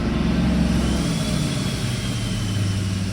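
An idling engine fitted with an exhaust brake runs steadily and close by, its low rumble shifting to a deeper, heavier drone about a second in as the brake engages, then holding constant.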